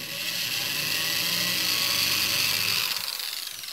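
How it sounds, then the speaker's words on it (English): A steady high-pitched whine of a small power drill with a 1/8 inch bit boring a shallow hole in a plywood kayak rib, running continuously, close and loud, easing off slightly near the end. "I just barely drilled in"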